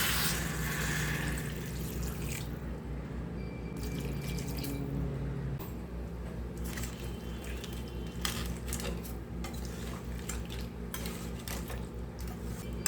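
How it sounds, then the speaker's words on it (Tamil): Water pours steadily into a pan of crab gravy with a splashing rush, followed by light clinks of utensils and occasional drips, close up. "தண்ணி சேர்த்துக்கலாம்."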